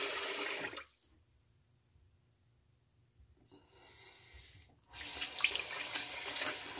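A tap runs water for rinsing during a wet shave, loud and close with a hiss and splash. It cuts off for a few seconds of near silence, then flows again at full strength.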